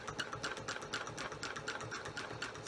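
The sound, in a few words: sewing machine sewing long basting stitches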